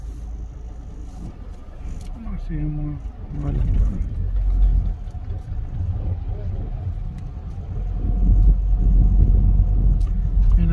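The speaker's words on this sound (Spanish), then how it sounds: "Ahorita vamos lento porque hay el camión de la basura adelante." A garbage truck's engine rumbles low and steady just ahead on a street in San Juan del Sur, swelling louder toward the end, while someone speaks briefly over the drone.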